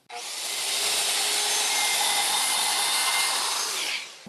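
A circular saw rips through a clamped wooden board on a cut-off jig, a loud sustained high whine that rises quickly, holds steady for about three seconds, then winds down, with no voices.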